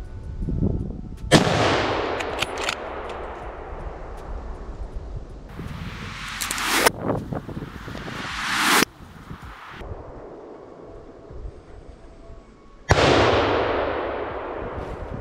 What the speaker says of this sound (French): Il tirera les 3 balles qu'il loupera.